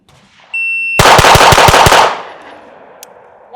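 A pistol fires a rapid string of about six sharp, loud shots in under a second during a timed shooting drill, preceded by a brief electronic timer beep and followed by a ringing echo fading out.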